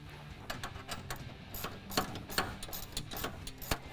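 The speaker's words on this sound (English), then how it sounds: "And then you can tighten the screw." A screw is tightened on an S&B open air intake bracket on a 2020-2025 Ford 6.7L Powerstroke, producing rapid, close ratcheting clicks in an irregular rhythm throughout.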